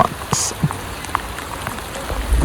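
Rain falls steadily with a soft constant hiss, punctuated by a few nearby drips and taps.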